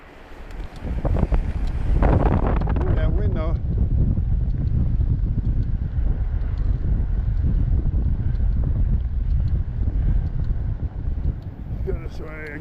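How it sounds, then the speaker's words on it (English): Steady wind roars across the microphone while fat biking into a headwind on a frozen, snowy lake, a loud continuous rumble lasting throughout with brief voices over it. "This way, against the wind. We're running against the wind."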